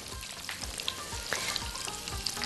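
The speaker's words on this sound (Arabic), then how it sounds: "كده الزبده والزيت خلاص سخنوا اهو" Butter and oil sizzle hot in a pan before chicken goes in, a soft continuous crackle with light scattered pops and faint clicks, no voices.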